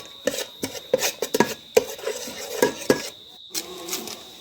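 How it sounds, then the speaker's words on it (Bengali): Chopped onion sautéed in a pot for chicken biryani, heard as a fast run of close metallic clinks and scrapes from a spoon against the pot over a faint sizzle, with no speech. "তারপরে দিয়ে দিয়েছি পেঁয়াজ কুচি। একসাথে কষে নেব কিছুক্ষণ"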